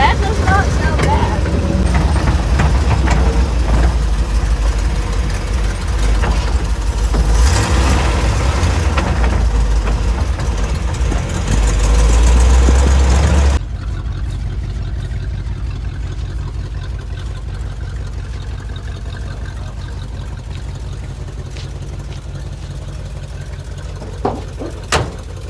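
A square body short box 4x4 truck's engine runs at a steady idle, loud and close with a deep low rumble; about halfway through the sound drops abruptly to a quieter, more distant idle, with a couple of brief knocks near the end.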